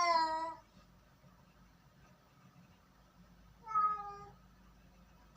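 A pet cat meows twice, once at the start and again a few seconds later, each a clear, fairly close harmonic call over a quiet room hum.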